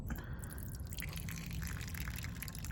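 Water drips and trickles from the sunroof drain hole of a 2009 Toyota Camry, a steady faint wet patter with no talking.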